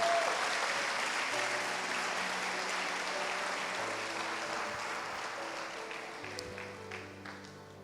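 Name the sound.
church congregation applause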